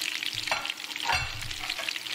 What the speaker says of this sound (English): They're just fried. they're sizzling.